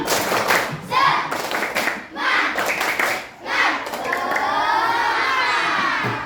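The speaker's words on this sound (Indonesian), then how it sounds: "Kita tepuk semangat dulu ya. Tepuk semangat." A class of children clap together in short rhythmic bursts of a classroom cheer, with shouting and cheering voices mixed in, fairly loud and close.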